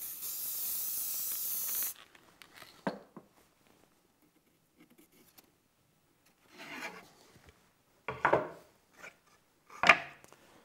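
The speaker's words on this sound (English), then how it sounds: "I'm going to take my paper pattern and hit it with some spray adhesive" A steady spray-adhesive aerosol hisses for about two seconds onto a paper pattern, followed by quiet rustling and a few scraping, handling sounds as the sprayed sheet is moved.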